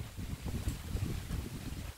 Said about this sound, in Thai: ฟังเสียงลมนะ